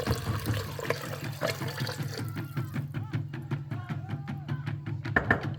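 Water pouring into a pot of soaked quinoa, a continuous close splashing and gurgling stream that shifts in pitch as the pot fills.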